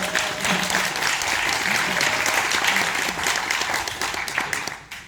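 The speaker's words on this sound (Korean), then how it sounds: "이건 박수 나와야 되는 거 아니에요?" Audience applause at a talk, a dense steady patter of clapping hands that holds for several seconds before tapering off at the end.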